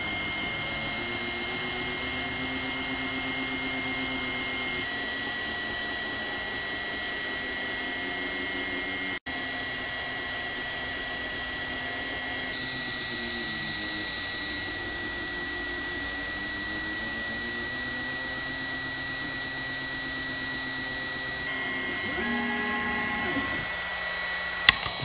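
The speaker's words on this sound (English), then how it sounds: "next we're gonna try to cut out the shape of a bear out of this quarter inch Baltic birch plywood in one pass." A Two Trees TS2 laser engraver cuts a bear shape from quarter-inch Baltic birch plywood. A steady airy fan hiss runs throughout, with soft rising and falling motor whines as the head moves, and a small knock at the end.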